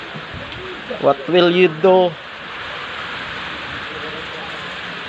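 Heavy rain pours steadily during flooding around a market compound in Hagonoy, a dense broadband hiss that continues throughout, with a short burst of excited talking near the start.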